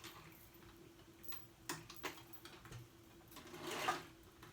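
A sewing machine runs in short, soft bursts while joining a jacket front piece into one continuous panel, giving a faint ticking whir against a quiet room hum.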